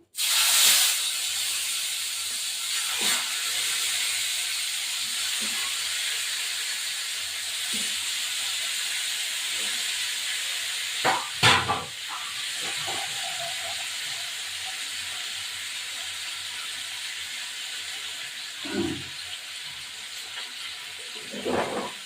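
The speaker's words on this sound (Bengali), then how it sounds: "আমি একটু কালো জিরে ফোড়ন দিয়েছি, আর হলো লঙ্কা আর টমেটোগুলো দিয়েছি।" Tomatoes and green chillies fry in hot oil tempered with nigella seeds for a fish curry, giving a steady, loud sizzling hiss with a few clatters of stirring along the way.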